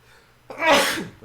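A single sharp sneeze bursts out midway, loud and close, with a faint breathy lead-in before it and quiet room tone after.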